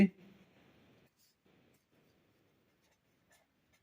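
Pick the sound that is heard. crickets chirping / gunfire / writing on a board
writing on a board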